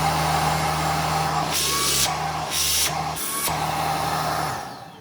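A Tineco Pure One X cordless vacuum runs steadily at max suction, a close, continuous motor whine and airflow hiss with brief surges in pitch before it winds down at the end.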